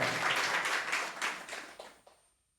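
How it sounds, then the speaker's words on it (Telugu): Congregation clapping hands in applause at a church service, a broad burst of many hands that tapers off and fades to quiet within a few seconds. "చప్పట్లు కొట్టి దేవుని మహింపరచ"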